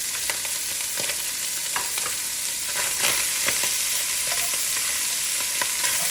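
Sliced yellow onion sizzles steadily in a pot, with a loud, continuous hiss broken by scattered scraping and stirring clicks from a utensil.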